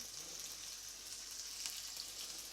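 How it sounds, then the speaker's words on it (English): Beef strips for stroganoff sizzle steadily in a hot pan, a continuous bright hiss with faint crackles and no pauses, close and fairly quiet, with no talking. "we'll get these lovely strips of beef in"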